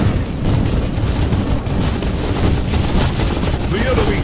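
Rapid, dense bursts of gunfire from a fire gun in a 2D shooter video game, a continuous loud barrage of booming shots with no clear gaps.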